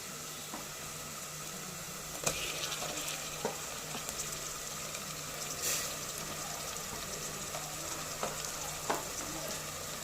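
Chopped onions and tomatoes frying in a pan for a curry, giving a steady, soft sizzle throughout with a few faint scraping and stirring clicks.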